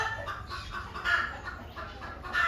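A hen at the Coos & Paws birds park in Madurai clucks softly in short repeated bursts, near but fairly quiet against steady background noise.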